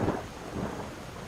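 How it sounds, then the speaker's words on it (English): In the video game Skyrim, a low roll of thunder rumbles beneath a steady wash of falling rain, with no voices present. "It is kind of raining."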